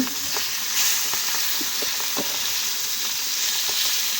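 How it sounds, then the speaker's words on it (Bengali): Fried fish is turned over in a pan of hot oil, with a continuous close sizzle broken by light scraping and stirring taps. "আমার মাছ ভাজা এক পিঠ হয়ে গেছে,"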